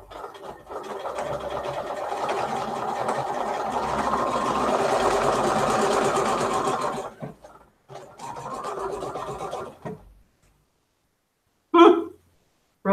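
Sewing machine stitching through thick layers of a sweater being turned into a bag, a steady fast mechanical whir running about seven seconds, a short pause, a second shorter run, then silence and a brief clunk.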